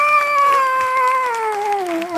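A voice imitates a cat giving birth as a comedy mimicry act: one long, strained, wavering yowl that holds close and loud before slowly sliding downward in pitch.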